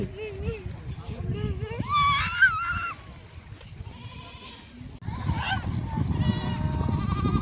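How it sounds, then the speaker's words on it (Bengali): Goats bleat repeatedly in an open rural setting, their wavering cries mixed with people talking nearby and outdoor background noise. "ছাগল দেখো, ছাগল অভাব নাই।"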